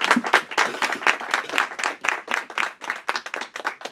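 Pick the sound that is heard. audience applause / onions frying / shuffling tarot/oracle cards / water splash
audience applause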